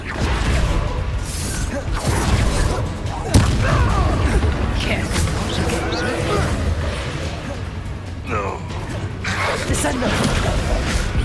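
Explosions from the Bombarda spell in Hogwarts Legacy boom and rumble through a dense stretch of game combat, with mechanical clatter and bursts, while a voice talks over the action.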